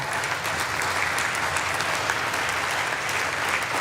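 Sustained applause from lawmakers fills the chamber of the US Congress during a presidential address to a joint session, a dense, steady wash of many hands clapping at even loudness throughout.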